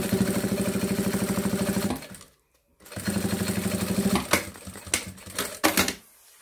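A domestic sewing machine runs fast, stitching the rolled seam of a thermal bag made of synthetic and sublimated fabric. Two close, steady stitching runs are split by a brief pause, then a few loud mechanical clunks follow.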